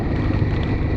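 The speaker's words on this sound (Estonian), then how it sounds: "Tuul on küll kõva." Strong storm wind buffets a microphone outdoors on a gravel cycling route in Estonia, a dense, loud low rumble with gusty fluctuations throughout.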